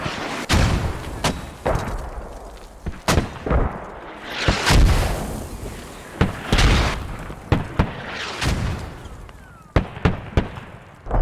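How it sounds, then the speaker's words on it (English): Heavy mortar barrage in the video game Squad, with loud booming impacts landing in irregular succession, some close and sharp, others more distant and rumbling, and no talk over them. "Can you imagine being under mortar fire this heavy in real life?"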